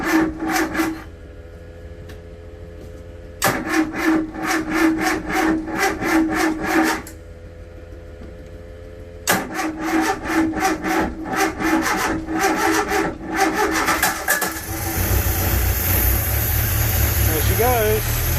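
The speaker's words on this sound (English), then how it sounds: "we can start the engine up" A Seamaster 27 boat's engine, laid up all winter, cranks in repeated bursts before catching and settling into a steady running rumble, with blowers and pumps whirring in the background.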